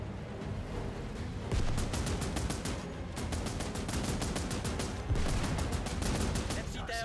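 Battle erupts in Last Train Home as a field cannon fires amid rapid, evenly spaced gunfire bursts, a steady loud clatter of repeated shots layered over continuous low rumble.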